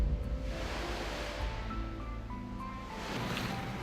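Continuous wave wash from a wave-height experiment testing willow trees, a steady rushing surf with broad noise and a faint tonal hum throughout, no voices.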